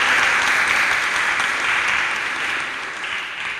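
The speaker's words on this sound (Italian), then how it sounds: "un applauso, perché sappiamo che è venuta appositamente" An audience at an award ceremony in Reggio Calabria applauds steadily, a dense, even clapping that fills the whole stretch at a fairly loud level with no speech over it.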